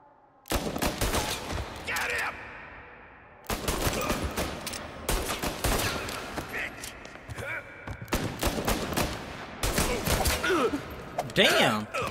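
Pistol gunfire in the video game Mafia: Definitive Edition, with sharp bursts of shots clustered in several loud volleys separated by brief pauses, and a voice talking in between.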